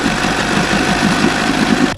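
A small outboard engine runs close by on spray paint, with a steady, throbbing drone as the RPM drops, then cuts away sharply at the very end.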